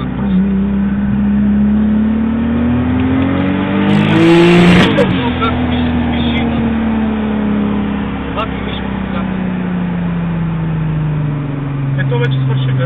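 Audi S3 with engine sounding close and loud, revving and accelerating with rising pitch through gear changes, the tone climbing, then dropping and settling into a steady drone, while someone talks over it.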